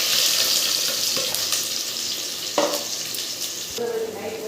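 Onion, dried red chilli and curry leaves drop into hot oil with popped mustard seeds for tempering, giving a steady close sizzle with occasional stirring scrapes and small clatters.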